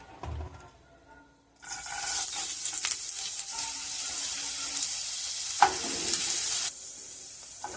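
Chopped ginger dropped into hot mustard oil in a kadai bursts into a loud, bright sizzle after a quiet start, hissing steadily with a few stirring scrapes before easing slightly near the end.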